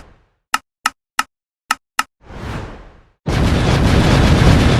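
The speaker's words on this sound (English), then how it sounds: "I need to edit in a bunch of explosions" A string of short sharp bursts pops off in quick succession, then a rushing blast swells and gives way to a loud, sustained roaring rumble.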